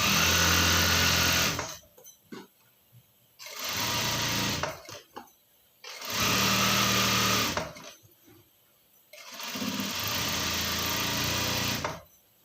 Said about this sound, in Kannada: ಅದ್ರ ಪಕ್ಕದಲ್ಲೇ ಇನ್ನೊಂದು ಸ್ಟಿಚ್ ಕೊಡ್ತಾಯಿದ್ದೀನಿ.